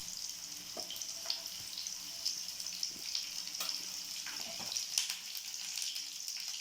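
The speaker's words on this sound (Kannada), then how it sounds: "ಎಣ್ಣೆ ಕಾದೈತೆ. ಇವಾಗ ಆಮೇಲೆ ಫ್ರೈ ಮಾಡ್ಕೊತೀನಿ." Coriander powder, chilli powder, dry ginger, cinnamon and cloves fry in hot oil for a sprouted horse gram sambar, giving an even bright sizzle with small pops and scrapes and no talking.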